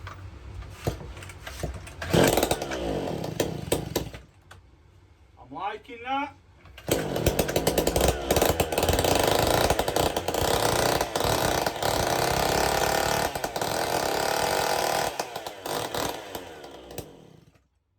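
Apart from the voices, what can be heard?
chainsaw engine running without exhaust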